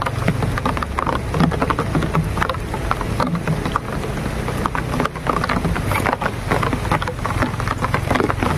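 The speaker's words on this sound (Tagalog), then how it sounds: "Malakas na yung ulan." Heavy rain pouring down, a loud, dense, continuous hiss and patter with wind noise buffeting the microphone throughout, no voices.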